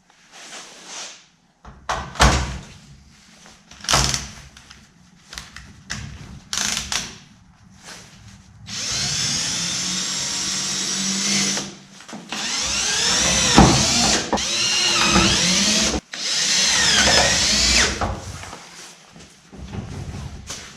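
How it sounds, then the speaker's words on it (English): A power drill drives self-tapping screws to secure a plate, with several long whirring bursts between scattered clanks and handling knocks in a workshop. "to secure the plate, I'm going to use the Lord's fastener self-tapper"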